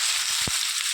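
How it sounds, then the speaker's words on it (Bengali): Pumpkin pieces hit hot oil seasoned with panch phoron, bringing a steady, close sizzle and hiss that holds through the whole moment, with a brief thud as they drop in. "এখানে আগে থেকে কেটে ধুয়ে রেখে দিয়েছিলাম মিষ্টি কুমড়ো, এটাকেও দিয়ে দেবো তেলের মধ্যে।"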